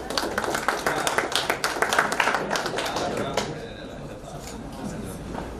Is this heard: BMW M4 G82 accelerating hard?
no